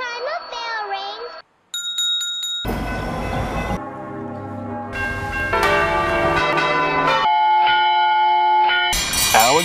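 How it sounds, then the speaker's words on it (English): A rapid series of different bells rings one after another: bright bicycle-bell dings, deep church-bell tolls and clanging train-style bells, loud and close. "every time a bell rings"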